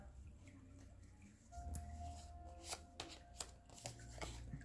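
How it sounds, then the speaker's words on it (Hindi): Tarot cards handled and drawn from a deck during a reading: soft, close shuffling and sliding with a few sharp flicks and snaps, fairly quiet over a low steady background hum. "यहाँ पे निकालने वाले हैं हम लोग एक लास्ट कार्ड।"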